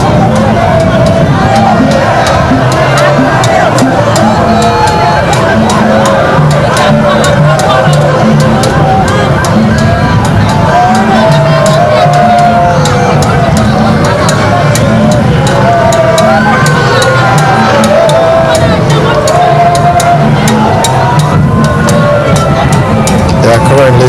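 A large crowd lines the streets of Accra for the funeral cortege of President John Evans Atta Mills: steady murmuring hubbub with scattered whoops and shouts, passing vehicles in the background, and distinct voices throughout.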